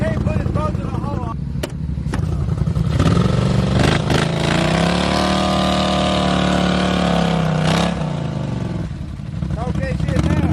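A Polaris ATV engine revs hard on an off-road trail, its loud, strained drone climbing and holding for several seconds before easing off, with people talking over it before and after.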